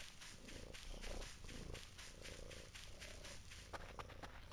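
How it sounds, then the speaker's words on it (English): A cat purrs in the video game Voices of the Void, a soft, rhythmic rumbling pulse repeating steadily at close range, faint and low in level. "Kitty cat."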